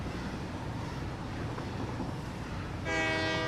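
Train in the factory-building game Satisfactory rumbling steadily along its rails, with a loud horn blast sounding near the end.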